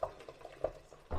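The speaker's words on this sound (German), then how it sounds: "So, das Wasser fängt an zu kochen." Water starting to boil in a pot for Polish-style garlic soup, with soft, scattered bubbling pops and gurgles, close and faint, in a brief burst.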